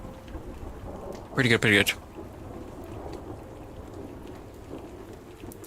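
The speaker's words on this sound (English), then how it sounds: "I just bumped up the rain a little bit because I do like to be able to hear it." Steady rain ambience with rumbling thunder playing on a live art stream, a continuous wash of rainfall with low rolls underneath, while a voice speaks briefly over it.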